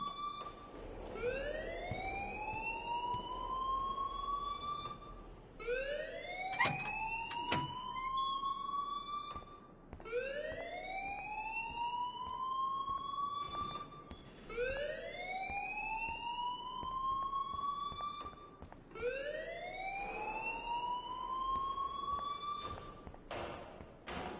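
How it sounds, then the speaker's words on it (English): An alarm rings in a video game as a repeating rising siren wail, five evenly spaced upward sweeps with bright harmonics, steady and moderately loud, with a few brief clicks between cycles and no talking. "please turn off that alarm since that's your job"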